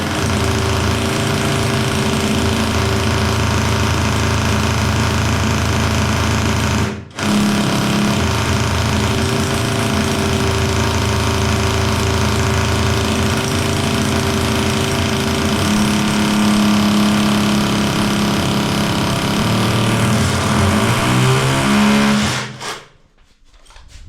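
Electric drill boring an 8 mm mirror-mount hole into ceramic bathroom wall tile, a steady loud grinding whir with a low hum, briefly stopping once, then winding down at the end.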